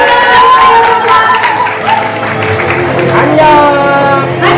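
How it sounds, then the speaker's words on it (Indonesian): Audience at a film press conference cheering and applauding the cast, loud and close, a steady wash of clapping under many excited voices and shouts. "Kita kasih tepuk tangan."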